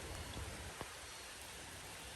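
Steady rain falling over a trout stream during fly fishing, a dense even hiss with scattered drop patter, close and continuous with no talk.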